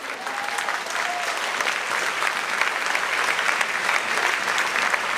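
A church congregation breaks into sustained, dense applause with scattered cheers, steady and loud for the full five seconds.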